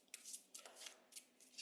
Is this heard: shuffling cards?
yes